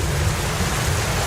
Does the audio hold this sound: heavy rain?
yes